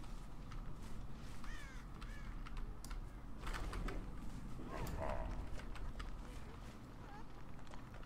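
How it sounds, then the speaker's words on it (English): Crows caw several times in the game Dead by Daylight, short harsh calls set against continuous game ambience with people talking over them. "The crows are over here."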